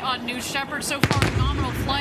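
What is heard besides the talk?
sonic boom of New Shepard rocket booster returning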